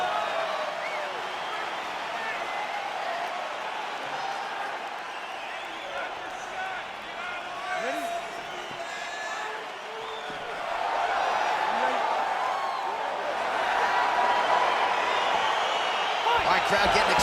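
Arena crowd noise from the video game EA Sports UFC 4, a Bruce Lee vs. Anshu Kumar fight played on PS5, forms a steady, loud roar that swells toward the end, with commentary voices talking over it.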